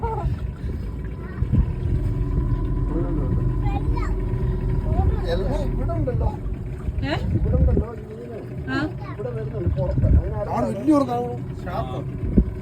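A motorboat engine drones steadily at low pitch throughout at Kavaratti Island, Lakshadweep, while people talk over it nearby.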